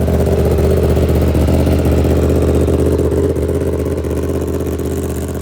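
A Lamborghini V4 motorcycle engine and exhaust run at a track school, giving a loud, steady close-up drone with a rough mechanical clatter and no talking.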